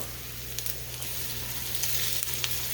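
Flour-dusted salmon-and-rice patties fry in a hot pan with a steady, close sizzle, and a few light clicks and scrapes rise above it as they are turned.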